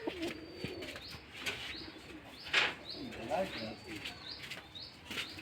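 Pigeons, including Teddy and red-tailed birds, coo softly in a loft amid faint chirps and background noise, with a voice talking quietly over them.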